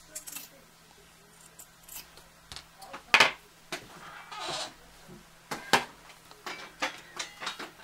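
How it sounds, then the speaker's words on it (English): Sharp scissors snip through excess fabric close to a sewn seam on a tote bag, a scattered series of quick, crisp cuts of varying loudness, heard near and alone in a quiet room. "And we just cut the excess. Again, I will cut it quite close to the seam."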